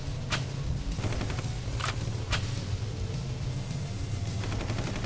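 Gunfire in the vehicle combat game Ex Machina, several sharp shots over a steady engine rumble, with clusters of quick bursts near the start and again toward the end.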